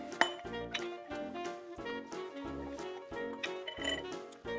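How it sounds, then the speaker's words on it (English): Mint, lime juice and butterfly pea syrup are muddled in the bottom of a glass for a rum mojito, giving repeated muffled pressing and grinding knocks in a steady rhythm, close and quiet with light glassy clinks. "And now I'm going to muddle those in the bottom of the glass."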